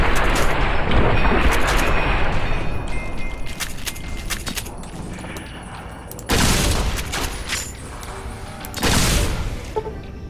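Video game gunfire from Fallout: New Vegas, dense bursts of shots fired in loud rapid volleys throughout, with two especially heavy blasts near the end over ongoing battle noise.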